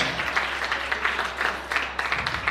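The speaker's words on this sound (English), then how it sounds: "let's give them a great round of applause" An audience applauds a school choir from Central Intermediate Grade School at a spring arts-in-education celebration, with steady, dense clapping that fills the hall evenly throughout.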